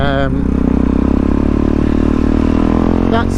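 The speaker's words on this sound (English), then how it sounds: "my GSR is like a naked sports bike" A Suzuki GSR naked sports motorcycle drones steadily up close while riding, its engine note rising briefly at the start and end, with a voice talking over it throughout.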